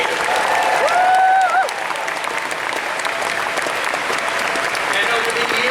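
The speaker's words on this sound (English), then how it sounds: "let's give a great applause to a great creator" Loud applause from a large Comic-Con crowd in a packed convention hall for Gene Roddenberry, a dense steady clatter of clapping that holds throughout, with cheering voices and a brief whistle-like tone near the start.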